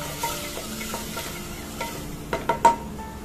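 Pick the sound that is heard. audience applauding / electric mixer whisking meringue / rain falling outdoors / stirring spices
stirring spices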